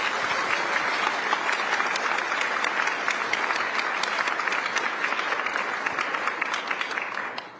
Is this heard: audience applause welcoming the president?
yes